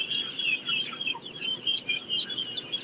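Turkeys clucking inside a barn on a large turkey farm, with many birds calling in overlapping, irregular bursts from a crowd at mid distance and no talk.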